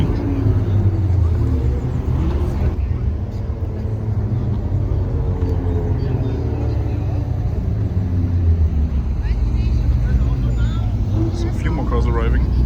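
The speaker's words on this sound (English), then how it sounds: "Cars arriving." Several cars roll in to a Car Friday meet in Germany, steady engine rumble and passing traffic close by for the whole stretch, with voices talking over it.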